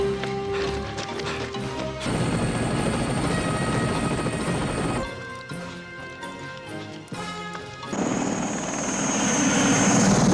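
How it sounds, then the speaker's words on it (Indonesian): A helicopter roars and whirs in a Rambo action film scene, loud and continuous, broken by abrupt cuts and crashing impacts. "saat terdengar suara helikopter"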